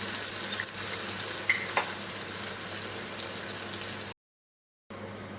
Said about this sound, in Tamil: இது எல்லாமே நல்லா வறுத்துருச்சு இந்தபடி